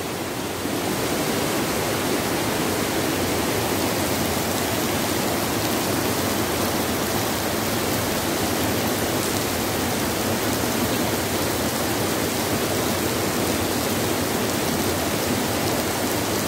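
A stream flowing into the Rispana River rushes in a steady, dense roar that never lets up, loud and close, with no voices.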